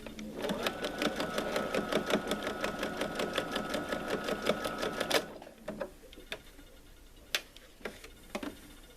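A sewing machine runs a straight stitch through kitchen towels in a steady, fast, close mechanical rattle for about five seconds, then stops, leaving scattered soft clicks and handling noises.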